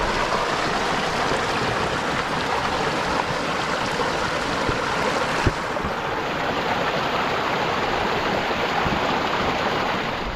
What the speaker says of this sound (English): the water is rushing down from these high peaks here all the way down this canyon